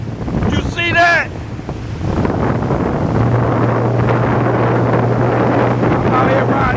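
A jet ski rides hurricane-driven waves off the North Carolina coast, with loud wind buffeting the microphone, crashing surf and a steady engine drone, plus a brief shouted voice near the start.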